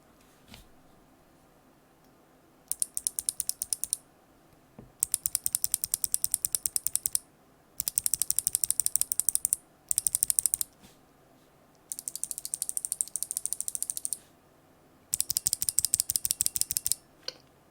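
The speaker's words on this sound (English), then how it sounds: "let's start with a standard Jade first" A stock BOX Jade clicky mechanical keyboard switch is pressed rapidly in bursts, sharp dense clicks with a faint metallic spring ping, close and alone, separated by short pauses.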